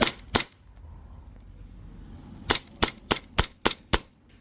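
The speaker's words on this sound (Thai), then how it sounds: "เอามันสวมเข้าไปในปืนขึ้นลำแล้วก็ ยิงซะ แบบนี้" A gas-powered airsoft 1911 pistol fires a few sharp, loud cracks, one early and then six in a fast, evenly spaced string, with a quiet gap between and no talk.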